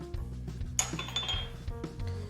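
Pesto is mixed in a bowl with salt and cracked black pepper, a utensil clinking and scraping against the bowl in quick irregular taps close by, with a low steady hum underneath.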